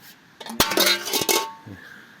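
Dishes and metal bowls clatter and clink in a quick cluster of bright knocks, fairly close, then settle into quiet.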